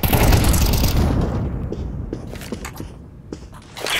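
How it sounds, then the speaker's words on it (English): A flashbang grenade explodes in Counter-Strike 2 ranked competitive play, a loud close boom that fades into a ringing tail, followed by scattered clicks and gunfire-like pops. "flashbang"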